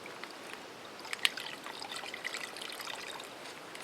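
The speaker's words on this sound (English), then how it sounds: "I was just going to get a bit of cold water in there to settle the grinds" Cold river water trickles and pours into coffee grounds outdoors, a faint thin splashing stream with small drips, quiet and alone.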